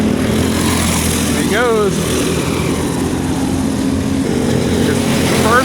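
A stock-muffled racing go-kart engine buzzes loudly through practice at a kart track, with pitch sweeps as karts pass, while a person speaks briefly.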